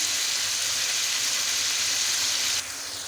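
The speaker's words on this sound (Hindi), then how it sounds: "तो हम अपने मटन को अच्छी तरह से भून लेते हैं" Mutton being bhuna-fried in a pan, a steady, close, loud hiss of sizzling oil that keeps going without pause and softens slightly near the end, with no talk.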